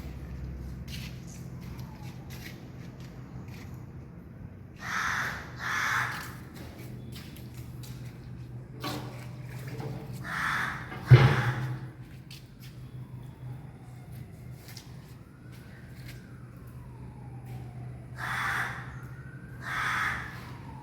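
A crow caws repeatedly at irregular intervals, harsh and fairly close, over a low background hum, with a sharp knock in the middle.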